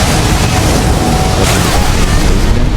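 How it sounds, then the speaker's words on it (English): An explosion in an Elden Ring tournament match fills the clip with a loud, dense, sustained roar that stays heavy from start to finish. "And the explosion catching XYL."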